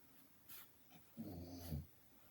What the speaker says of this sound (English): my dog hasn't snored like that a long time